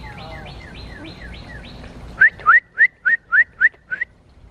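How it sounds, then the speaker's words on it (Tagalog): A small yellow bird sings near a bird feeder: faint, rising notes first, then a run of about seven loud, sharp whistled chirps in quick, even succession, close by. "The bird is singing."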